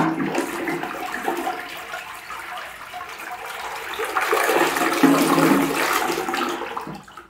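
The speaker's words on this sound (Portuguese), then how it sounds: "agora eu vou dar descarga" A household toilet flushes after a clove cleaning mixture has sat in the bowl overnight, giving a loud, close rush of swirling water that swells midway and then drains away.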